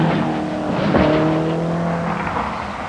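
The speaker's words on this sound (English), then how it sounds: "It's a Mazda 323, as you can see, but it's got a rather unusual configuration. It's got a Nissan 240 RS turbo motor, mid-mounted" A Mazda 323 rally car with a mid-mounted Nissan 240 RS turbo engine on a forest rally stage, its engine droning loud and steady with a pitch that shifts partway through as it pulls hard along the road.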